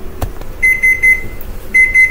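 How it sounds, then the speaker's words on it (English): An oven timer for baking chicken wings goes off, loud and near, in two clusters of rapid electronic beeps separated by a short pause. "The timer just went off."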